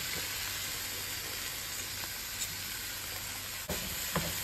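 Okra sizzles steadily as it sautés in a pan with softened onions, a close, constant frying hiss broken by a couple of brief stirring clinks, with no talk.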